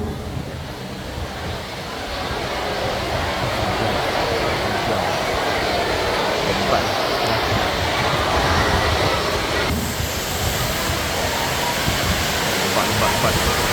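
Rain falls steadily overhead during a school farewell ceremony, a dense even hiss that swells after the first couple of seconds and continues without a break.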